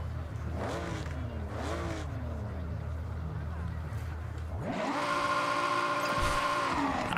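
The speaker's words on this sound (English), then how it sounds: "Who's revving the car?" Car engine in Forza Horizon revving with rising and falling pitch, then a sustained high-pitched drone of acceleration, loud and steady throughout, with voices talking over it.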